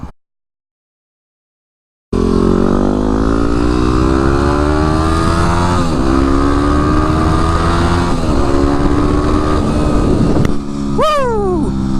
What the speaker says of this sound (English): I'm on the new bike today. I'm on the WR250X.